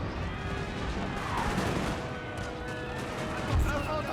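Cannon fire in the Napoleonic battle game Napoleon Total War at Waterloo, a continuous din of booming guns and musketry with a heavier thud near the end, and a voice talking over it.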